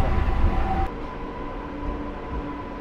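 A local train on the Howrah to Puri run, near Kharagpur and Hijli, rolls along with a continuous rumbling rattle of wheels on track, heard from inside the carriage with no talk.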